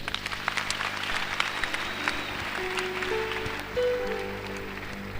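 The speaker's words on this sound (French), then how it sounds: "Acclamons le Seigneur" A church congregation applauds the Lord in a sustained burst of clapping from many hands. It fills the room steadily and fairly loudly, with a low hum underneath and faint tonal sounds drifting in toward the end.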